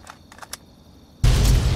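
An explosion in the video game Fallout 3 bursts in suddenly after a quiet stretch with a few faint clicks, then sustains as a loud, broad roaring blast to the end.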